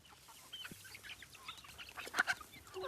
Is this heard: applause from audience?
no